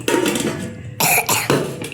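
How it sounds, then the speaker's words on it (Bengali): A young boy with a bad cough coughs several times in quick bursts at close range, loud and harsh, with no talking. "ও আমার দাদু ভাইয়ের খুব কাশি হয়েছে"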